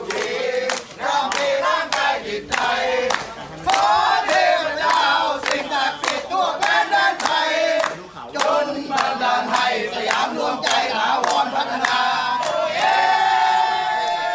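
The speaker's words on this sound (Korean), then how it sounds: "태국에서는 이런 환호성이 터져 나왔습니다." Dense crowd in Thailand erupting in cheers and applause at news of the rescue of thirteen boys trapped in a cave, sustained loud roaring with sharp bursts of clapping and shouts throughout.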